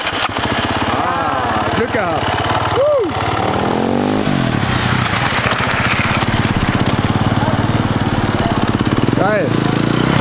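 Small warm engine firing back up after stalling, then running with a loud, steady rapid chug close by, while someone speaks excitedly over it.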